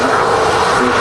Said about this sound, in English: Here goes that EasyJet A320 off to Munich.